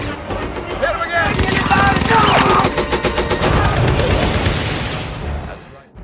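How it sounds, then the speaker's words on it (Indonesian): Sustained tank machine-gun fire from the war film Fury rattles in rapid continuous bursts, loud and close, with shouting voices and battle noise mixed under it. "Don terus memuntahkan amunisi tanpa henti"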